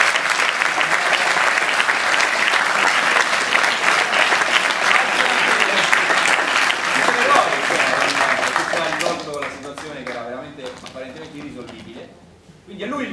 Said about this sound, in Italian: Quindi io vorrei ringraziare Mauro, lo splendido applauso.